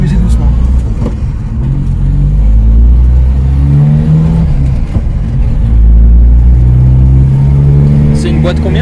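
A 1962 Simca Aronde with a 62 hp engine, driven fast in fourth gear, makes a loud, steady in-cabin engine drone with a rumbling low pitch that shifts up and down. Wind and road noise sit underneath.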